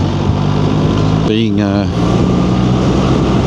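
A BMW R1300 GS Adventure motorcycle cruises steadily on a motorway, a loud continuous engine and wind roar running throughout while someone talks over it.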